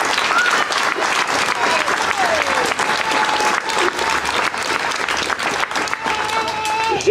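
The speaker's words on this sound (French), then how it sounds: "Je vous demanderai de les applaudir pour ceux qui sont là et ceux qui ne sont pas là." Audience at a village charity cheque presentation to the League in Ottange applauding elected officials and villages: continuous, close, vigorous clapping from a crowd, with a few whistles and shouts rising over it.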